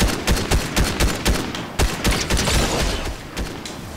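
Gunshots in the battle royale game Fortnite, a rapid series of loud, punchy cracks at uneven intervals over a constant background wash, some shots in close pairs, all near and prominent with no talking.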